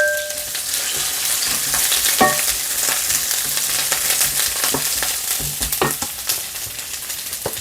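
Shredded cabbage fries in two spoonfuls of oil in a frying pan for spicy stir-fried octopus, a steady close hiss and crackle with occasional stirring scrapes and clinks.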